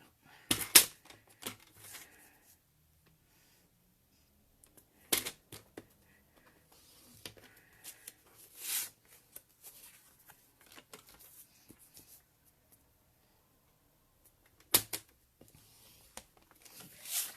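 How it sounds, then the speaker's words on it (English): A paper trimmer scores cardstock corner to corner for a handmade spring card, giving quiet, scattered clicks and short scraping strokes separated by long near-silent gaps, with no talking. "we are going to score the cardstock corner to corner"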